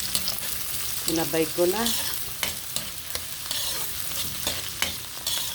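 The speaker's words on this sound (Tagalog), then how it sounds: "mag-start na tayo ng ating paggigisa" Ginger, garlic and onion sauté in a hot pan, giving a steady close sizzle with a few utensil clinks and stirring scrapes, while a brief spoken remark comes in near the start.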